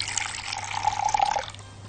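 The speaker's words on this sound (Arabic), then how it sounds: "هجيب شوية مية كده عشان أبل بيهم إيدي عشان ما تلزقش" Hands are wet with a little water before shaping chicken kibbeh, a short close trickle and splash of water with small drips, alone without talk.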